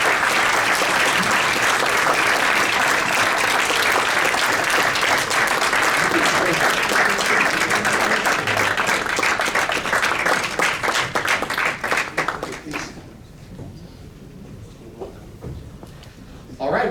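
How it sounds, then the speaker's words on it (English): Loud, sustained applause from an audience at an in-person university LGBTQIA+ consortium launch event, dense steady clapping for about twelve seconds before dropping off to a quiet room. "So please give them a round of applause while they make their way up to the stage."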